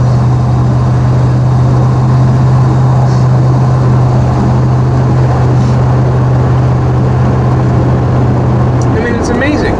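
A Ford F150 pickup truck cruises down a road, giving a steady low engine drone and road rumble heard from inside the cab, with the tone dropping away near the end.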